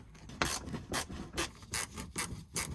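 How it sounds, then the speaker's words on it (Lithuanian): A screwdriver works screws loose beneath the bumper of a MINI Cooper, making a steady series of about eight rasping, scraping strokes in an even rhythm, close and fairly quiet, with no talk. "Čia stovi 3 varžtai. Pasiemam atsuktuvą, gali būti ir minusinis."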